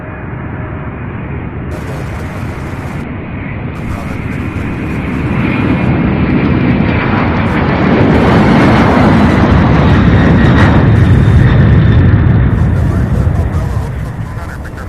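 A jet airliner takes off from Louisville International Airport, a broad rumbling roar that swells and stays loud over about fifteen seconds, with outdoor wind and low, indistinct voices beneath it.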